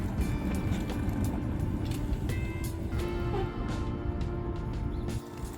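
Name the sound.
electric go-kart test drive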